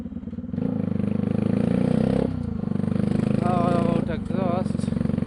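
Bajaj Pulsar 200NS motorcycle with a modified exhaust idling loudly up close, a rapid thumping pulse with a couple of brief blips of the throttle, while a person talks over it.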